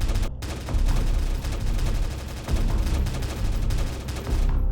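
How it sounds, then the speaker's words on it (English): Loud, sustained gunfire rattles almost without pause as mutant zombies are shot from above with a jetpack in hardcore Minecraft, in an apocalyptic wasteland. "I soon put my jetpack on and started to shoot them from above."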